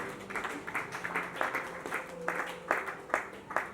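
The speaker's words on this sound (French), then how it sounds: "Sous vos acclamations." Applause from an audience at a church gathering in French-speaking Congo, with steady clapping that swells in bursts over a short stretch. Faint voices sit underneath.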